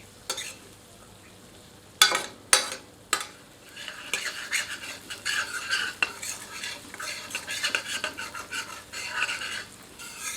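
Onions with Kashmiri chili stirred in a pan, opening with a few sharp spoon scrapes and clanks, then a soft crackling sizzle that rises and falls with the stirring.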